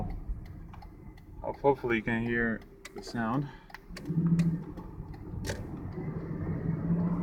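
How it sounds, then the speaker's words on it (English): A 2001 Ford Mustang engine misfiring, heard from outside through an open window: after someone speaks, a low, uneven idle rumble with irregular ticking runs steadily in the background. "Sounds like misfire."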